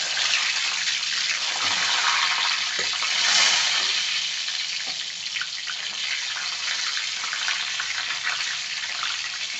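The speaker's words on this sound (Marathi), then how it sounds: "तर आता आपलं तेल गरम झाले, मी त्याच्यात हे सर्व वांगी सोडते." Brinjals go into hot oil and fry with a steady, loud, broad sizzle that continues throughout, with a brief swell partway through and occasional soft clinks and stirring taps. No one speaks.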